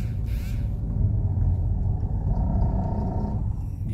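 An automatic car's engine holds a continuous low rumble under steady throttle on a gentle uphill climb, heard from inside the cabin.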